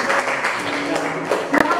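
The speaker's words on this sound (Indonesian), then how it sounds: "Tepuk tangan untuk teman-temannya." A classroom of students claps for their classmates, a short, uneven round of applause with voices mixed in underneath and one sharp clap near the end.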